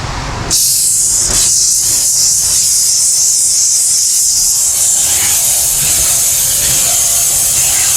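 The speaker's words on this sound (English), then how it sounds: "I'm shooting degreaser right now by pushing this button" Hot degreaser from a steam cleaner bursts on and sprays in a loud, close, continuous hiss during car interior detailing, holding steady after a short quiet start.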